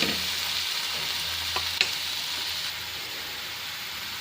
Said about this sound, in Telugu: ఈ టమాటా ముక్కలను కూడా వేసి బాగా కలుపుకుందాం